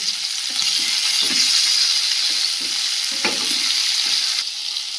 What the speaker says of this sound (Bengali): তেলাপিয়া মাছ ভাজা চাপিয়ে দিয়েছি